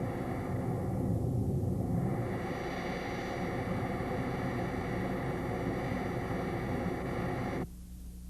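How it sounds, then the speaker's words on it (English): Jet engine noise runs through synthesizer filters that let only a narrow band pass, giving a steady, hissing roar with faint pitched tones that shift slightly before the sound drops to a quieter level near the end. "By connecting the keyboard to the filters, a melody can be played by filtering the jet noise."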